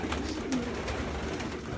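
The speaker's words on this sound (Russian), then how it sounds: "Там столько голубей стало." Pigeons cooing around a dovecote, soft low rolling coos repeating close by over a faint outdoor background, with no talking.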